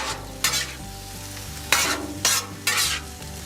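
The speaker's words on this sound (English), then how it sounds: "once we have all that butter melted, hash browns right on top." Hash browns fry in melted butter on a breakfast griddle, with a steady sizzle broken by four sharp scraping bursts as a spatula tosses them, close and fairly loud over a low background hum.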